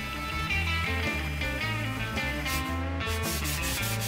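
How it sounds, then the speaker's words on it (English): A random orbit sander works an end grain cutting board at 120 grit, a loud steady motor whine with rhythmic rubbing pulses as the pad moves across the wood, no voices. "I random orbit sanded at 120 grit until all those 80 grit belt marks were gone."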